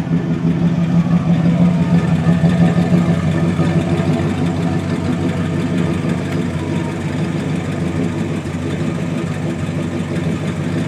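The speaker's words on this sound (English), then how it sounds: "Nice low rumble. Really smooth running engine." A 1971 Pontiac Grand Prix V8 engine idles steadily with a low, even rumble, close and continuous throughout without talk.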